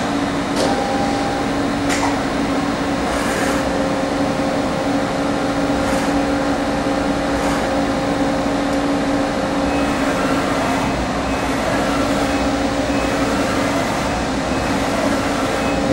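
An Okuma Howa Millac 4VA three-axis CNC vertical machining center from 1986 runs in a steady, continuous drone with tonal hum and a faint whine, fairly loud and unbroken throughout, no talking.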